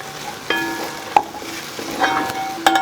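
Tomato paste with chili flakes stirred in a pan, a soft sizzle under a few scraping strokes and light clinks of the spoon, close and moderately loud, no speech.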